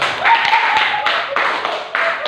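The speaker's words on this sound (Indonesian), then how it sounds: "Beri aplaus untuk Mbak" Classroom applause rings out for a student during an Islamic education teaching session: a steady patter of many hands clapping at close range, with slight swells, lasting a couple of seconds.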